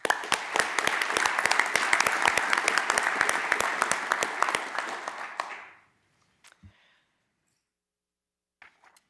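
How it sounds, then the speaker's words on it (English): An audience at a board of commissioners meeting gives a round of applause, steady dense clapping for about six seconds that stops abruptly, followed by a few faint scattered sounds. "let's give him a round of applause"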